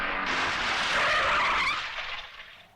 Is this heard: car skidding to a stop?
yes